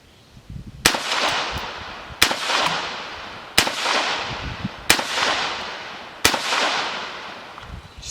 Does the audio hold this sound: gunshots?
yes